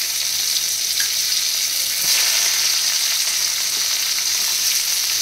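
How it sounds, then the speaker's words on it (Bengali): Chopped onion frying in oil in a kadai with dried chilli, bay leaf and cumin, giving a loud, constant close-up sizzle throughout with no voices. "পেঁয়াজটা লাল লাল করে ভেজে নেব"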